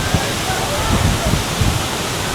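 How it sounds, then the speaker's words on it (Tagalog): Sudden rain shower falling on Boracay beach, a steady broadband hiss of rain throughout the short stretch, with faint voices of people underneath. "Dahil biglang umulan."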